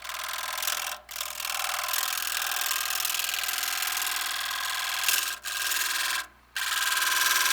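A dull chisel scrapes wood on a spinning lathe using the negative rake method, a steady loud rasping hiss broken by two brief pauses.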